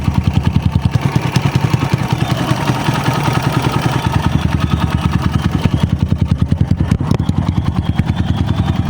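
A Kawasaki KLX 150 motorcycle with a freshly overhauled engine and new crankshaft runs close up through its exhaust pipe, a loud, steady, rapid thumping idle with no talk over it.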